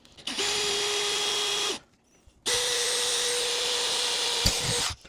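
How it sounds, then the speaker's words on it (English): A power drill bores down into a wood block for a model log fire effect, two steady whining bursts of about one and two and a half seconds separated by a brief pause, close and loud. "I still need to drill about half an inch down"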